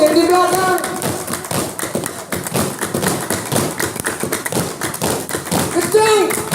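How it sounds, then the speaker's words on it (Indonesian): An audience clapping together at a Didong performance, a Gayo folk art event, with rapid rhythmic slaps and taps mixed with chanting and voices talking over the beat. "Tepuk yang di belakang."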